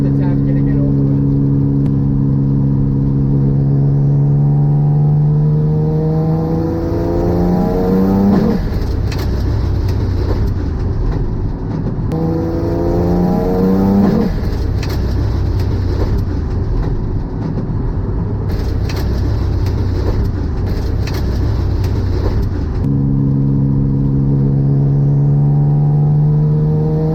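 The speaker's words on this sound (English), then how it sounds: "Right now I just have the front engine running. I'm getting it warmed up." The front engine of the SUICIDEMX3 idles steadily as it warms up from a cold start, a loud, continuous low rumble with a few brief rises in revs throughout.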